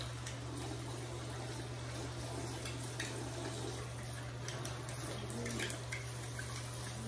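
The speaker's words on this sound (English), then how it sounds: "so I'm just gonna wet her hair down first" Water runs steadily and is poured to wet a baby's hair at bath time, a continuous close splashing wash over a low hum, with no talking.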